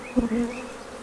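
Honeybees buzzing around an open nucleus hive during inspection, a close, fairly loud hum with one brief louder pass near the start, alone without speech.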